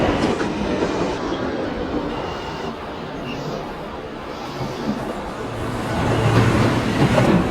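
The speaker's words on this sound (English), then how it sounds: "This is a Forest Hills 71st Avenue bound B train via the R line." New York City subway B train on the Queens Boulevard line, running with a steady loud rumble and rail noise, a tonal hum rising near the end as it moves along the track.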